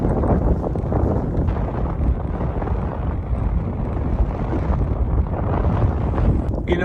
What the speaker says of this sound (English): but she's windy.